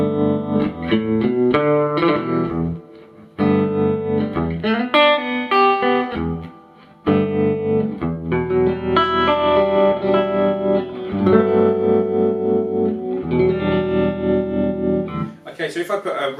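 Slide guitar played through Carl Martin Head Room Reverb and Surf Trem pedals, giving sustained, gliding notes with a wavering tremolo shimmer and reverb tail, phrases separated by brief pauses.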